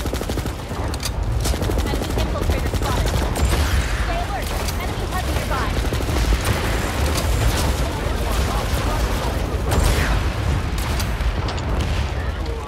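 Rapid gunfire and explosive booms from the Planetside 2 shooter game, a loud dense continuous barrage with overlapping bursts throughout, a voice speaking over the battle.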